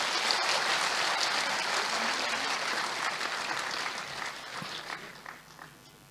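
Audience applause at the Pakistan Gakhar Talent Awards ceremony as a girl receives a shield and prize cheque, steady dense clapping that slowly fades toward the end.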